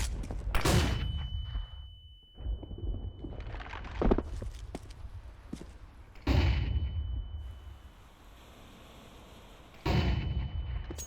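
A flashbang grenade goes off in a video game, giving sharp loud bursts with a lingering high ringing tone, followed by quieter game ambience and a second burst near the end.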